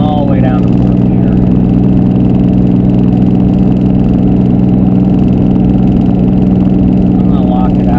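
Cummins diesel truck engine pulling a heavy load uphill in 4th gear after a downshift, a loud steady low drone with strong cab rumble and a faint voice talking over it throughout.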